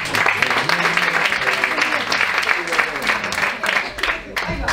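An audience at the Kintos 2006 festival in Albelda de Iregua claps in a lively burst of applause, with crowd voices and chatter mixed into the clapping close by.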